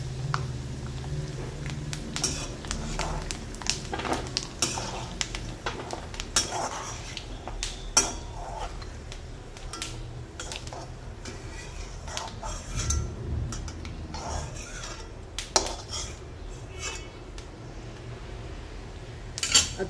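Fried coconut being scooped out of a pan, with repeated clinks and scrapes of a metal spoon against cookware in irregular bursts, close and fairly quiet over a low background.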